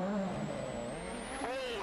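Hirvonen's Ford WRC rally car drives a muddy stage in Australia, its engine note rising and falling in a brief close in-car drone.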